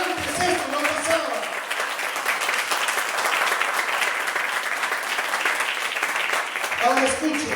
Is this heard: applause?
yes